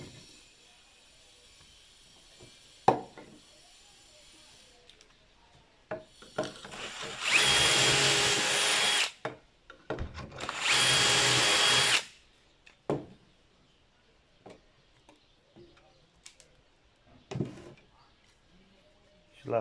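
A power drill bores into wooden bed pieces in two loud bursts of a few seconds each, close by. Speech and scattered workshop handling noises come before and after the drilling.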